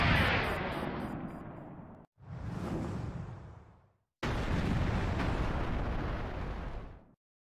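World-destroying explosions in the video game Craftopia: three loud, roaring blasts, the first fading over about two seconds, the second shorter and swelling then dying away, the third long and sustained before cutting off abruptly.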